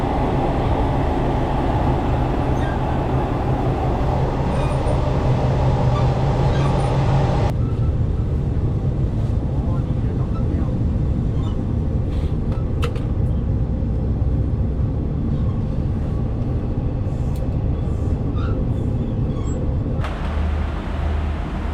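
Sleeper train travelling from Chiang Mai to Bangkok, a steady loud rumble of wheels and carriage throughout, with a few faint clicks and knocks above the constant low roar.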